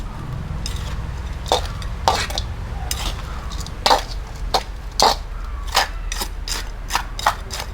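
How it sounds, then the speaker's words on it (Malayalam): Potting soil being stirred together with coir pith and cow dung powder, producing a series of separate scraping, crunchy rasps at irregular intervals, close and fairly loud with a low hum underneath. "ഇതിപ്പോൾ നല്ലതുപോലെ നമുക്കൊന്ന് മിക്സ് ചെയ്ത് കൊടുക്കാം."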